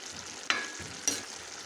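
Food sautés in a pan, a low hiss broken by two sharp stirring scrapes about half a second apart, close and without talk.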